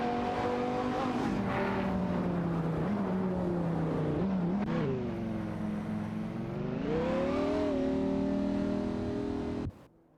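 Racing cars in a video game, a Mosler MT900 and a Lamborghini Murcielago SV, roar with rising and falling engine pitch through gear changes and revs, loud and continuous before cutting off abruptly at the end.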